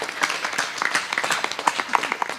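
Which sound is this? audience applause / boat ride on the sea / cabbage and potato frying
audience applause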